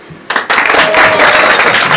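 A crowd at a golden wedding anniversary celebration in Quingeo, Azuay, Ecuador, bursts into applause after a quiet moment, the clapping swelling quickly and holding steady and loud.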